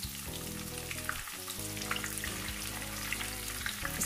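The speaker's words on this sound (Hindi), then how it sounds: "फिश की फ्राइंग स्टार्ट करनी है।" Fish fingers frying in hot oil in a pan, a steady close crackling sizzle with bright popping spatters and no voices.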